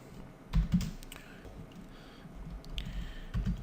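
Quiet close-up typing on a computer keyboard, a few soft clustered keystrokes at the start and again near the end, with faint background hiss between and no talk.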